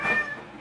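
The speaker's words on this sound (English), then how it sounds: "get your cat to stop begging for food" A cat meows once, begging for food, a short, fairly close, falling call that fades out within a fraction of a second.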